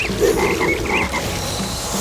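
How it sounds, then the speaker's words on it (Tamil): A cartoon frog hopping out of a pond croaks continuously in a bedtime moral story, a loud, close, throaty croaking that carries on without any speech. "குட்டையில இருந்து வெளியில குதிச்சு பக் பக்கு பக் பக்குன்னு கத்த ஆரம்பிச்சு"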